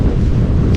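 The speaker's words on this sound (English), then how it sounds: "That wind is crazy today." Strong wind buffets the microphone outdoors on a hillside gully during brush cleanup, a steady low roaring rumble that fills the whole short moment with no pauses.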